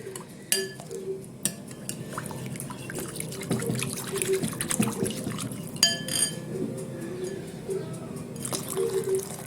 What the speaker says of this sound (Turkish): İkinci su bardağı suyumu da ilave yaptım.